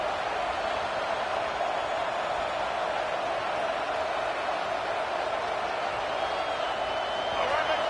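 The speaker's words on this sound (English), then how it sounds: "This crowd busting the decibel meter and trying to will a 4th down stop." A loud college football stadium crowd roars steadily for a 4th down stop against UCLA, a sustained, undifferentiated wall of cheering that holds level throughout, with voices talking over it.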